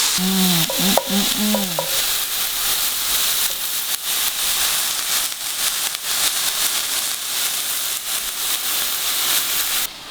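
Steak searing in a hot pan, giving a loud, dense and constant sizzle with crackling spits close by. A short tonal voice-like sound rises over the frying near the start.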